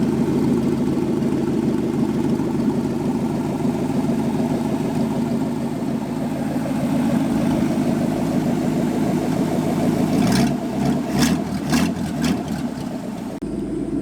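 A Chevy 350 V8 in a Jeep CJ7 idles steadily through a loose, old, unbolted exhaust, a loud continuous rumble with some clatter and brief sharper bursts near the end.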